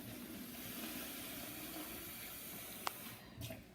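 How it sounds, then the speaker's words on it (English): Tap water runs into an empty plastic water bottle, a steady close rushing hiss that holds for several seconds, followed by a brief clatter and a short uneven burst of splashing near the end. "I'm just going to fill this up right now, just to show that it actually is tap water."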